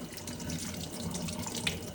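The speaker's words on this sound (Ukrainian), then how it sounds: "Легенько просто споліскуємо." Cool tap water runs over meat being rinsed before it is marinated for smoking, a quiet, steady splashing stream with no voices.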